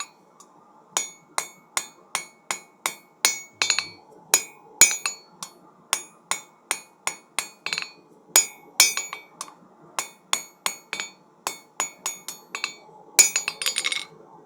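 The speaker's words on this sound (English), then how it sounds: "See where I'm striking? I'm trying to hit the edge of the anvil" A hammer rings sharply on steel and anvil while forging a knife point, dozens of evenly paced metallic strikes with bright clinking overtones, close and alone.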